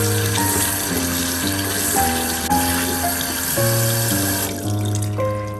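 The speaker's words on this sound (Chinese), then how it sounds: "再用流动的清水清洗几遍" Green beans are rinsed under running tap water, a steady close splashing stream that continues throughout with a faint hum beneath it.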